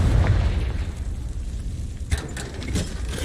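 A spell explosion in the Hogwarts Legacy video game, a sustained low rumbling blast with crackling bursts and a sharper pop near the end, loud and with no talk over it.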